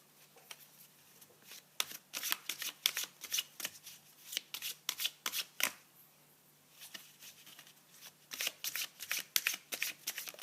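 Tarot cards are shuffled for a card reading, a quick run of crisp riffling snaps and flutters in bursts close to the microphone, soft overall and with no speech.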